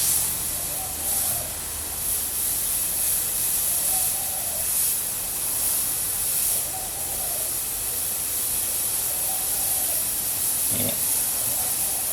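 Airbrush spraying paint with a steady loud hiss of air, its nozzle and needle not closing properly, with faint recurring tones at intervals and a brief knock near the end.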